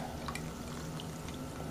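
Sugar solution being poured into wine during home winemaking, a continuous soft splashing pour with faint trickles, close and steady, with no talk.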